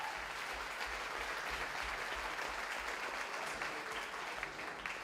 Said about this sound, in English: Give Q Coil a round of applause.